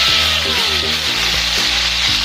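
Pork steak meat for bistek hitting a hot pan outdoors, a loud dense sizzle that fills the moment, with a low tonal hum running underneath.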